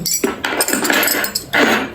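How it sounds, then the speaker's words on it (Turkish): Bright metallic jingling of keys picked up from a storage depot, several close clinking rattles in short bursts. "Anahtarları da alalım."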